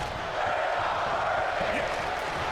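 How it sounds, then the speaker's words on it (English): A wrestling arena crowd in the ZNWA chants in unison, a dense, steady roar of many voices filling the hall at constant loudness throughout. "The crowd chanting, "We're not worthy" here in the ZNWA arena"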